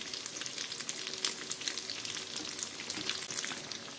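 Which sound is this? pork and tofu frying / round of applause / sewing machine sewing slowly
pork and tofu frying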